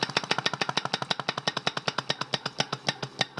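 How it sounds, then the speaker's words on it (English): Rapid metallic clinking and cracking from an engine's piston rings or wrist pins, a steady fast train of sharp close knocks repeating evenly with no talk. "That cracking, that clinking noise is. Those are the rings."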